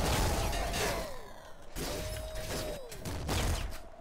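Rapid bursts of jackhammer weapon fire in the PC game Nuclear Throne, crunchy impacts and whooshing shots repeating in three loud clusters with brief gaps, no talking over them.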